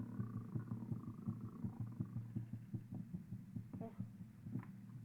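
A steady, muffled heartbeat sound effect from the video game Granny Remake thumps in a regular rhythm over a low hum, loud and close, with no talking.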